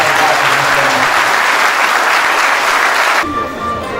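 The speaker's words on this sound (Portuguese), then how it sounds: "solicitamos uma salva de palmas para essas" Loud, dense applause from an audience at a Brazilian Army honors and medal ceremony, heavy clapping filling the space for about three seconds before cutting abruptly to a quieter room.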